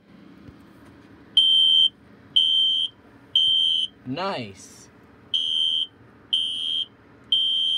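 Spectral Alert Classic fire alarm under test, sounding six loud, even beeps about a second long in steady rhythm, close by. A brief rising chirp interrupts partway through, and a voice speaks one short word.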